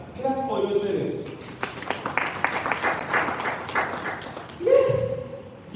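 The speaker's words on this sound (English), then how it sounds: "Clap for yourselves." Scattered clapping from an audience at a live wellness event, a burst of hands lasting a few seconds between stretches of someone talking, which resumes over the tail of the claps.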